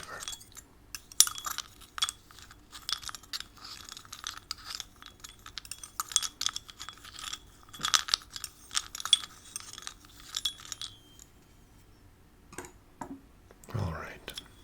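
Wooden chips are stirred in a bowl for a pretend wood soup, producing soft clinking, tapping and rustling taps close to the microphone, with whispering throughout.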